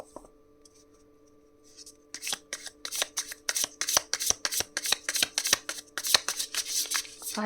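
Tarot cards are shuffled close up after a brief quiet start, a run of crisp, rapid riffling bursts repeating in a steady rhythm.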